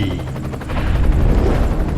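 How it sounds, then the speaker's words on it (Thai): A helicopter lifts off into the sky with a steady, loud rotor roar and throbbing low rumble, building slightly in intensity as it climbs, filling the scene without pause. "เมื่อทุกคนถอนตัวได้อย่างปลอดภัย เฮลิคอปเตอร์จึงทะยานขึ้นสู่ท้องฟ้า"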